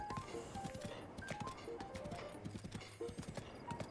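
Horse hooves clip-clop in Breath of the Wild as the mount scrambles up a cliff side, a quick run of light, irregular hoof taps with a brief whinny, quiet and near.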